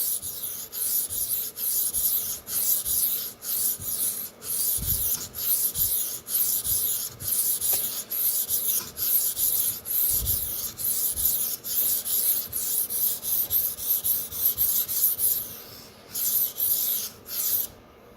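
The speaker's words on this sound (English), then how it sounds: "I'm using my fingers to push the blade into the stone." A dull Sabatier paring knife is sharpened on a whetstone, with steady rhythmic rubbing strokes of the blade across the stone, close and fairly quiet, repeating in short even passes.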